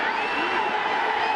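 Baseball stadium crowd at a 2015 ALCS playoff game between the Blue Jays and Royals, a steady dense roar of cheering and chatter filling the ballpark throughout, loud and continuous with no break.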